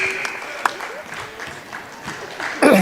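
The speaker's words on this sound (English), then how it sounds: "Gets a round of applause for the senior." Crowd applause in a high school varsity basketball gym, moderate clapping beneath a commentator's talk, with a louder burst near the end.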